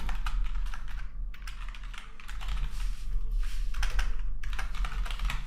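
Fast, steady computer keyboard typing sounds close and clear, with dense clusters of keystrokes broken by a short pause, over a low background hum.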